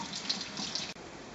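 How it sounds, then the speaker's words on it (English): Potatoes washed under a running kitchen tap, a steady splashing stream of water close by that briefly cuts out near the end, then resumes more softly. "wash your potatoes."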